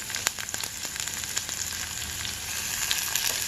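Large onion pieces frying in a pan while making jowar rava upma, a dense continuous sizzle with crackling pops, close and steady throughout, with no talking.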